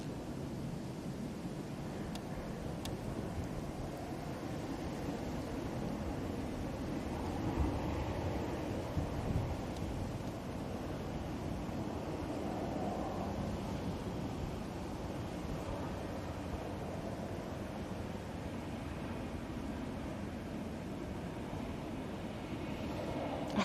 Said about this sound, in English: Like the wind's got stronger, but the sun's now starting to come out.